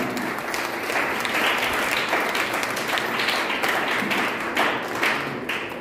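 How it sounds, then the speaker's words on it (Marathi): Audience applause fills the room at an event, a steady, dense clapping from many hands held at an even loudness throughout, with no voices rising above it. "त्यांच्यासाठी जोरदार टाळ्या."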